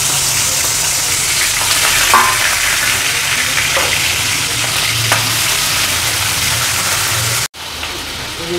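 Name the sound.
prawns frying in hot mustard oil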